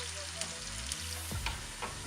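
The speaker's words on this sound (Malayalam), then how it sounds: "ഈ ഉള്ളിയും ഇഞ്ചിയൊക്കെ വറുത്തിട്ട് നമുക്ക് ചെറുതായിട്ടൊന്ന് പൊടിച്ചെടുക്കണം." Sliced onions and ginger sizzle and crackle in hot oil as they brown for ginger curry, with a few stirring scrapes from a utensil against the pan.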